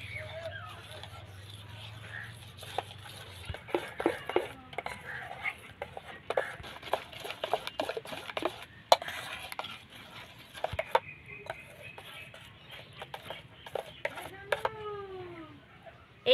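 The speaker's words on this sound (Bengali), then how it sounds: "ভালো করে ঘেঁটে নেব।" Bel (wood apple) sharbat stirred with black salt and roasted black pepper, a series of scattered spoon clinks and scraping knocks against a vessel, close and faint, with quiet speech.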